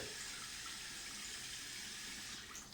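A tap runs steadily for a rinse after brushing with an electric toothbrush, making a continuous, even rush of water at low volume that holds for the whole stretch with no talking.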